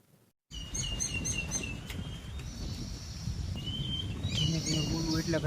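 Outdoors, birds chirp and tweet in quick bright calls, several at once, continuing steadily at moderate distance after a brief silent start.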